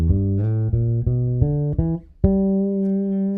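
A short guitar lick played with fingers one, two and four: a quick run of plucked notes with a slide, ending on a long sustained note, close and clear with no voices.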